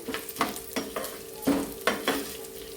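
A spoon stirs cumin seeds through a hot pan for a spice powder, giving several quick scraping strokes with a light sizzle between them, close and clear without any voices.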